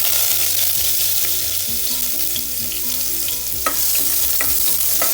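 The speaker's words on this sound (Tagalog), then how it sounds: "So maglalagay lang tayo ng cooking oil. Lalagay na tayo ng garlic." Garlic fries in cooking oil with a steady, close sizzle and crackle, while repeated stirring scrapes through the pan.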